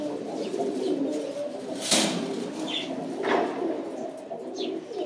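Pigeons, silver male birds of a show breed, give soft low coos while wings flap in sharp bursts, close by and with no talk.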